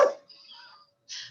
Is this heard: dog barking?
yes